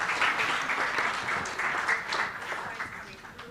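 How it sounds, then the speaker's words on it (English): A crowd applauds steadily at a forum opening ceremony, a dense wash of clapping that fades slightly toward the end. "One more round of applause for Dr. Inez and her panel."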